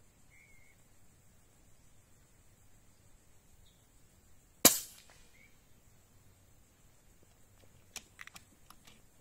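A single sharp, crisp air rifle shot, a Boito Urutu 931 charged from a scuba cylinder, cracks out in a quiet setting, followed by faint ticking and a few small clicks.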